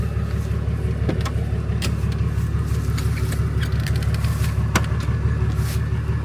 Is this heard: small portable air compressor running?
yes